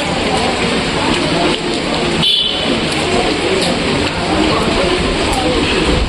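Heavy rain pours steadily outside in Darjeeling, a dense continuous hiss with no breaks, close and loud throughout.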